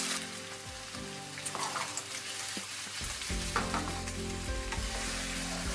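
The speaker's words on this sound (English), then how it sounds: "add in the cubed firm tofu and continue to stir fry for another 3" Vegan soy protein chicken and cubed firm tofu are stir-fried in a pan, producing a continuous dense sizzle with crackling pops and stirring scrapes, close and steady.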